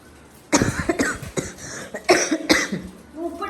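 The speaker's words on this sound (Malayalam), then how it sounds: "നല്ല ചുമയുണ്ട് കേട്ടോ എനിക്ക്" A person with a bad cough in a home kitchen while cleaning prawns for cooking, letting out several loud, close, harsh coughing bursts in uneven succession, with quieter breathy throat noises between them.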